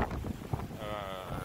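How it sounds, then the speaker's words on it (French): Gusty wind buffets an outdoor microphone beside a Mercedes-Benz Intouro coach, producing low rumbling thumps and roar that rise and fall over a second and a half, with a faint tonal hum entering partway through. "ce côté là il y a beaucoup de vent"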